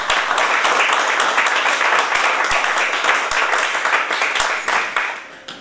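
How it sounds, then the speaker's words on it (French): A live audience breaks into sustained, dense applause after a poem reading on a literary program. The clapping stays steady and loud throughout, thinning slightly near the end. "On l'applaudit."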